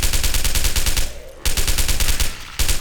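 An SMG fires in a video game, loud and near, in long rapid automatic bursts broken by two short pauses.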